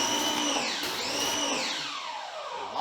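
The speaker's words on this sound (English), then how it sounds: "hit it hard with the pressure washer to foam it up" A pressure washer drives foaming car soap: a loud, continuous motorized whine that rises and falls in pitch throughout, close up, with no talking.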